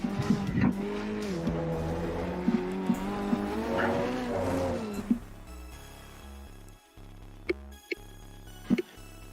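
Ferrari 488 GT3 race car in the Assetto Corsa Competizione racing game, its engine revving loudly and rising and falling through gear changes, then switching to a lower steady drone with brief sharp bursts toward the end.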